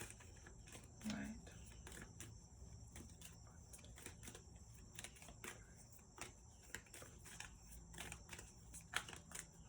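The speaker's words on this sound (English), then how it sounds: "just shuffling" Tarot cards are shuffled by hand, with faint, rapid riffling and tapping sounds in a quiet room under soft speech.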